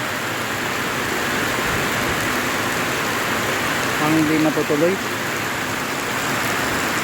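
Steady rain hisses down without a break at Calinog Town Plaza in Iloilo, Philippines. A person speaks briefly partway through.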